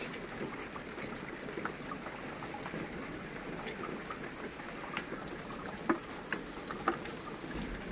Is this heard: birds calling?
no